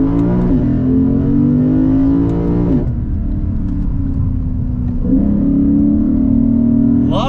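A 2022 Lexus IS 500 sport sedan's engine pulls hard under full throttle, its loud rising note climbing in steady harmonic sweeps and dropping briefly at each upshift before winding up again, heard from inside the cabin with no talk.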